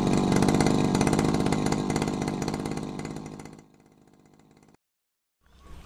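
A small two-stroke Saichi SC 338 grass trimmer engine revs hard with a raspy buzz, then drops to a lower idle, cuts out briefly, and sputters back.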